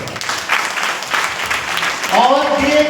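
An audience in a hall applauds, a steady patter of many hands clapping that a speaking voice joins near the end.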